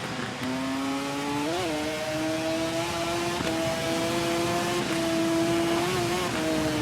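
A superbike engine in the TT Isle of Man racing game screams at high revs, holding a steady loud whine with brief dips at gear changes, continuous and close throughout.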